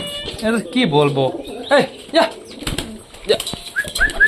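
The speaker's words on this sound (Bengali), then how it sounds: "ওই পাখিটা ডাকছে" A pet pigeon calls briefly in a home setting, with a few short coos and wing flaps close by and people talking loudly over much of it.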